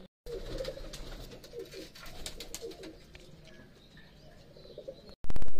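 Prince Kamagar pigeons coo in a loft, repeated soft throaty calls with faint chirps over a constant background hiss, ending abruptly with a louder burst.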